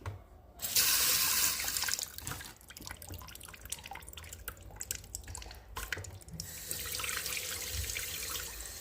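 Grapes are washed under a running kitchen tap in a sink: a steady close splash of water with clattering, dripping bursts as the fruit is moved about. The flow is loudest at the start and swells again near the end, with no talking.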